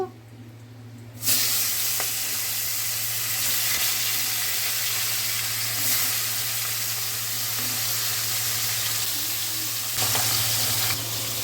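Salted, turmeric-rubbed koi fish (climbing perch) frying in hot oil, a steady loud sizzle that starts abruptly after a quiet second and holds constant, with a low steady hum from a stove or extractor underneath.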